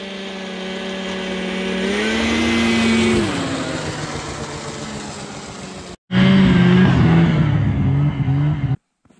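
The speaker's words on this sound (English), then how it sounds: "It's not a crazy fast new snow machine by any means, but they're still really fun toys to us" An older snowmobile engine revs up, the pitch rising and falling across several loud, close throttle pulls, cut by two brief breaks in the sound.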